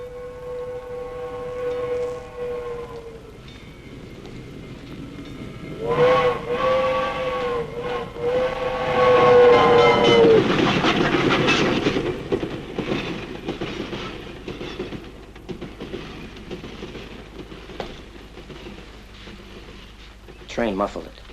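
Steam train passing, its shrill multi-tone whistle blowing twice over the rumble and rhythmic rattle of the railcars, loud and near and fading to a steady clatter.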